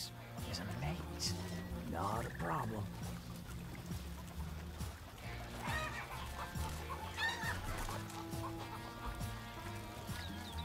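Chickens cluck in the Western stealth game Desperados III, short clucks and squawks rising now and then over game ambience while a player talks throughout.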